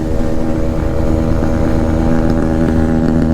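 A Bajaj NS400 motorcycle fitted with an SC Project exhaust held at full throttle, giving a loud, steady, continuous engine roar with no letup and no talking over it.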